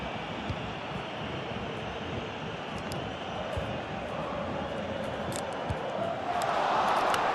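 A stadium crowd roars in a FIFA 23 match between Inter and Barcelona, a steady dense wash of cheering that swells louder toward the end, with faint talk underneath.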